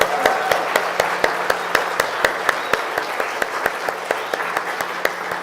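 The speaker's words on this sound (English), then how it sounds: "let's give him an applause." Applause from a worship service congregation for a guest musician, steady dense clapping with sharp louder claps standing out throughout, moderately loud and without talk.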